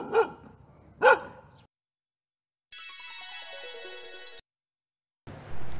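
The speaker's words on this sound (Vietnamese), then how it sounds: "Tiếng sủa của con chó." A dog gives two sharp barks about a second apart, fairly faint and close together, followed after a pause by a ringing electronic chime.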